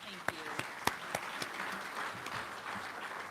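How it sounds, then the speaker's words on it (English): Applause from an audience at a keynote speaking event, heard as a moderate wash of clapping with a few sharper individual claps, while a voice talks over it. "Let's give her another round of applause"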